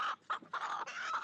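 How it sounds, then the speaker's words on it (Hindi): Hens in a village coop cluck loudly in a quick run of several close, clear squawking calls with short gaps between them, with no voices over them. "मुर्गियां जोर जोर से कुटकुटाने लगी"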